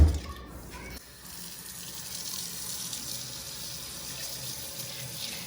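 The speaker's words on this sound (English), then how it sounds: "So I'm going to wash my pineapples." Pineapples rinse under a running kitchen tap in a steady, close gush of water. A clunk opens the sound, and water splashes over the fruit afterward with no pause.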